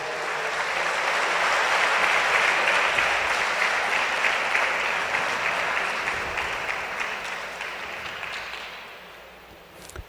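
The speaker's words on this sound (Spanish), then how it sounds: "Dele un aplauso al Señor por eso." A church congregation applauding in praise, a sustained wash of many hands clapping that swells early, holds for several seconds, then gradually thins and fades toward the end.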